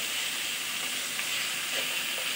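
A hilsa fish head fries lightly in hot oil, giving a continuous close hiss and sizzle with small crackles, even in level and alone.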